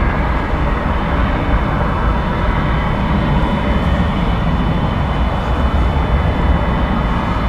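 American Airlines flight 2810 takes off from runway 18 left at DFW Airport, a steady, loud broadband jet engine roar that holds evenly throughout without talk.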